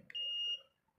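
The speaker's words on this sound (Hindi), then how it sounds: "शॉर्ट शो कर रहा है, बीप आपको सुनाई दे रही होगी।" A multimeter's continuity buzzer gives one steady electronic beep lasting about half a second, loud and close, as its probes touch a shorted microwave capacitor. Faint room noise surrounds the tone.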